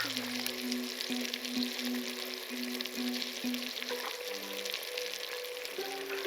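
Turmeric, dried coriander powder and salt frying in oil give a steady, close crackling sizzle that runs the whole time under a faint tonal hum.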